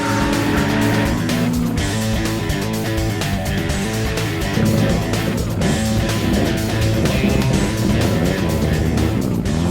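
A race car engine roars loudly and continuously, its pitch rising and falling as it speeds around the Killarney circuit during a motor racing festival.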